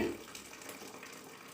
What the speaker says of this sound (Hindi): चावल का बचा हुआ पानी निकाल रहे हैं।